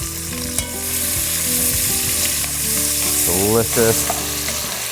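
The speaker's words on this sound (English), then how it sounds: "We're gonna sear the vegetables for just a couple of minutes" Vegetables sear in hot beef fat in a pan, a loud, steady sizzle and crackle throughout, with a voice speaking over it.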